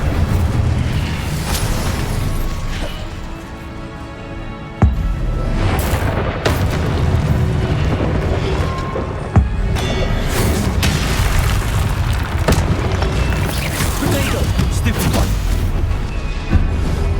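Loud spell blasts and fiery bursts from Incendio being cast in the Hogwarts Legacy video game, with repeated sharp booming impacts over a dense, continuous rumble of combat effects and music.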